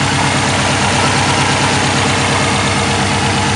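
A Subaru WRX engine idles loudly and steadily up close, a constant rumbling drone with no talk, after a turbo install.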